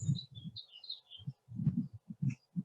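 Birds sing outdoors in short high chirps and warbling phrases, faint and distant, over intermittent low thumps and soft movement noise.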